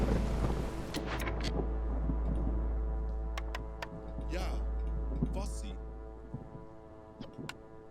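Storm ambience in the video game Against the Storm: a steady low rumble of wind and thunder swells and fades beneath scattered chimes and clicks of game sounds.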